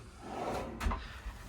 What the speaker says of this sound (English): You have your soft close drawers here.